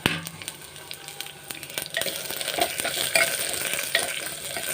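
Cut green beans sautéing with onions in a pan over medium flame, a continuous close sizzle with frequent scraping and clattering stirring strokes, growing a little louder midway, no talking.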